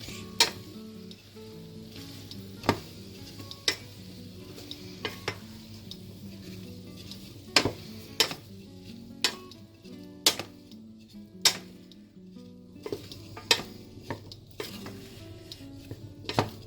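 Potato soup being stirred in a pot, with a steady low simmer under repeated sharp knocks and scrapes of a utensil against the pot at an irregular rhythm, close and fairly quiet.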